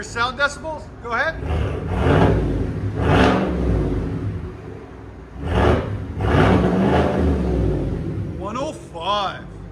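Repeated sharp revs from a GMC Yukon AT4's 5.3 liter V8 through a straight pipe exhaust, each one rising and falling over a deep, steady idle, loud and close, with people talking between the blips.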